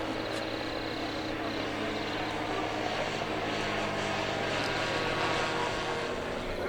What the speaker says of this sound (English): See, got a 30cc gas motor. Got a very good muffler on it, very good exhaust system on this plane.